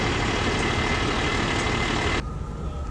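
Box truck engine left running after striking a low-hanging tree branch, a steady close idling rumble that drops abruptly in level near the end.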